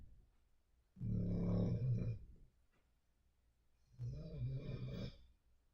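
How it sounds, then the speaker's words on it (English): A dog snoring loudly nearby in two long, rasping bouts about three seconds apart, with quiet breathing in between. "my dog is snoring like up a storm"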